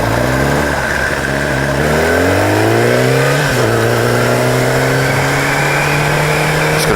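A car accelerates hard on a Sydney street, its engine loud and close, pitch climbing through rising gears with a brief dip at a shift, then holding a steady drone.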